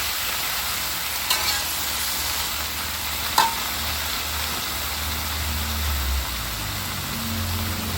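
Food stir-fries in a pan, giving a continuous soft sizzle with a few sharp clinks of the utensil against the pan, close and steady, with no talking.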